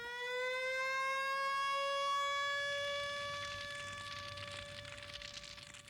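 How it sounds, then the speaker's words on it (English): A 1948 Mack fire truck siren wails steadily, its pitch rising and then holding at a sustained loud tone, with faint rushing noise underneath. "a siren that sounds like a siren ought to sound"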